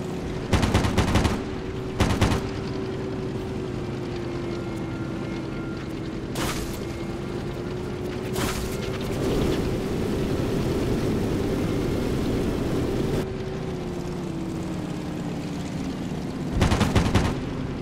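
Bursts of aircraft gunfire in World of Warplanes, short loud volleys at the start, middle and end over a steady droning plane engine in air combat, with the engine pitch sliding as the plane maneuvers.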